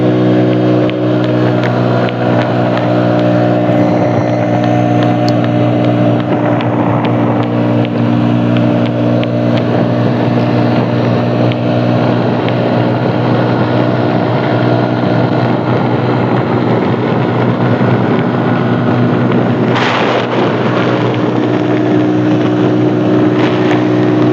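A Mondial SFC 50 motorcycle runs at speed up a ramp, its engine a steady, loud droning hum blended with rushing wind noise that stays constant throughout, with no talking.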